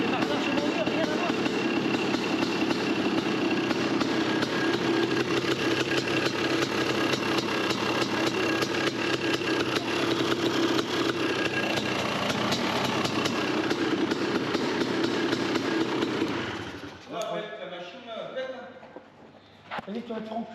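A rebuilt 500 CR two-stroke motorcycle engine running hard during track run-in, a loud continuous buzzing roar close by for most of the clip before it cuts off abruptly, with voices talking over and after it.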